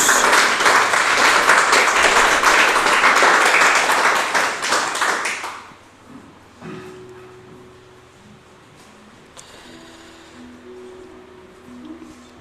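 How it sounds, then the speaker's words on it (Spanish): A congregation at a church service claps loudly and vigorously for several seconds, then the applause fades out abruptly into a quiet room with faint tones and scattered small sounds. "Vamos a darle un fuerte aplauso a la palabra de Dios"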